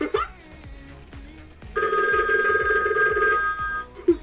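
A Disney Mickey Mouse limited edition animated toy telephone gives a sustained electronic ring of about a second and a half, close and clear, amid soft rhythmic ticks and brief sounds before and after.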